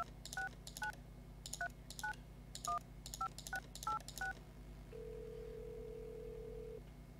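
In the video game Kentucky Route Zero, a phone number is keyed in as a quick series of about ten touch-tone beeps in an irregular rhythm over a low hum, followed by a steady tone.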